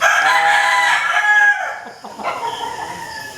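An imported Raptor Sweater gamefowl rooster crows once, loud and close, a long strained call that breaks off midway, followed by quieter farmyard rustling and faint clucks.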